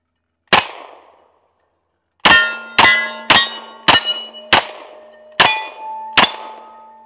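An M1 Thompson submachine gun fired outdoors, one sharp shot, then after a pause a run of six loud, ringing reports spaced roughly half a second apart, each with a metallic ring and short echo.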